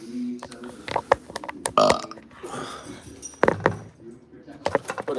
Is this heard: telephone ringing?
no